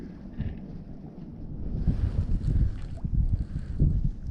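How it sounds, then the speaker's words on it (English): Gusty wind buffeting a microphone on a fishing dock, a low rumbling whoosh that swells and fades with a few soft knocks, fairly close and steady. "This wind makes it really hard to tell whether or not I'm getting a bite"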